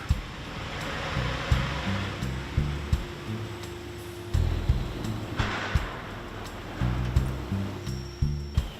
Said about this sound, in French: Le métal s'écoule entre une filière et une aiguille sous l'effet des 3150 tonnes que développe le piston de la presse.